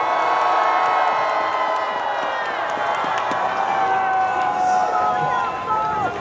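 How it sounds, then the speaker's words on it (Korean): Crowd at a Save Korea national emergency prayer rally in Daejeon roars with cheering and shouts, a dense sustained wall of voices that holds loud for the whole stretch with occasional whoops rising above it. "다 같이 함성으로 성원해 주십시오."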